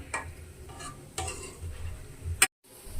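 Gulab jamun frying gently in oil on low heat: quiet sizzling, with a few soft stirring scrapes and a brief clack before a short silence.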